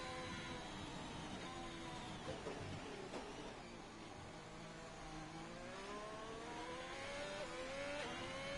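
Race car engines hum and drone together through a formation lap at the Austria round of a racing video game league, a steady mid-level rumble with rising and falling pitch sweeps from several cars.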